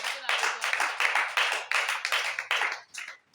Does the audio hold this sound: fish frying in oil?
no